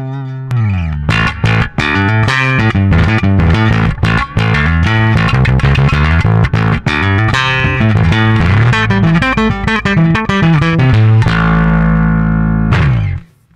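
A distorted electric bass plays a busy, driving riff through a Source Audio Programmable EQ pedal, with thick, gritty tone and heavy effects, loud and continuous, ending abruptly.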